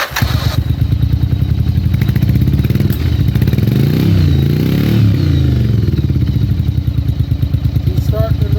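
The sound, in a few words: 1994 Yamaha Virago motorcycle engine starting and running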